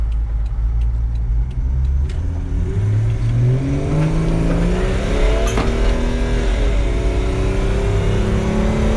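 A Toyota Land Cruiser Troopy with a swapped M57 engine and automatic gearbox accelerating hard, its loud rising engine drone climbing and shifting through gears up close inside the vehicle, with no talk.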